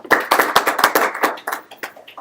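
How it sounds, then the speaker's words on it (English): Applause from a small group, likely at a meeting or class session: a couple of seconds of sparse, uneven hand clapping with distinct individual claps that fade out quickly. "Another round of applause."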